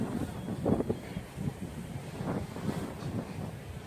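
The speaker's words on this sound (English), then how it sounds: "There is some wind out here." Outdoor wind buffets the microphone during the first test flight of an MJX Bugs 2 drone, making a continuous low, rumbling roar that swells and fades unevenly, with no voices.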